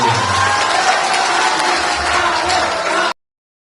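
An indoor hall audience at a discussion with people with disabilities applauds steadily and loudly for about three seconds, with cheering mixed in, before cutting off abruptly.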